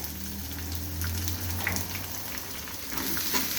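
Onion going into a pan of red-roasted peanuts, sizzling and frying steadily with a low hum underneath, moderately loud and continuous, with no talking.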